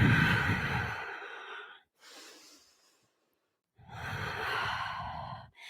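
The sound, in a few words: Ujjayi breathing during yoga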